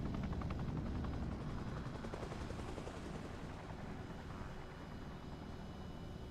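A helicopter in the video game Arma Reforger drones with a dense, steady rotor thump and engine roar, loud and continuous throughout with no voices.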